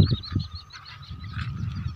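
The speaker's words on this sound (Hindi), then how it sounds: "देख सकते हो पूरा पक्षी उड़ रहा है, ढेर सारा पक्षी देख सकते हो" Geese honking in a flock as they fly up near a lake, several overlapping calls close by over a steady outdoor background, loudest at the start.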